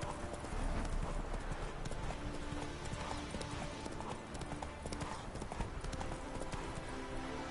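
Roach, Geralt's horse in The Witcher 3, trotting with a steady, even clip-clop of hooves that runs through the whole stretch, close and clear over a soft game ambience, with no voices.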